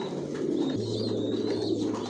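Big Janssen-line racing pigeons, including grizzle and mealy birds, coo in a soft, continuous low throaty murmur nearby, with no voices.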